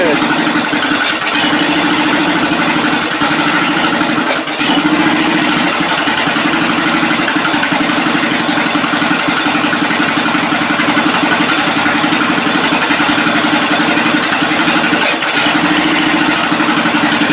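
The engine of a slammed "General Lee" race car build runs steadily and loudly for the whole stretch, a rough continuous idle close by with voices faintly beneath it.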